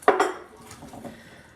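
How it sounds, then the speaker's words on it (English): Chicken wings being tossed with Cajun seasoning in a bowl, starting with a couple of sharp clinks and scrapes against the dish, then fading into quieter, softer rustling. "I'm going to just kind of mix these in to this chicken right now"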